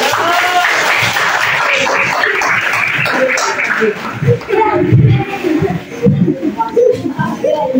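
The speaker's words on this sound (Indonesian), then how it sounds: "Ayo kasih tepuk tangan" Applause from a group of elementary school students clapping continuously, with a noisy crowd and voices talking over it toward the end.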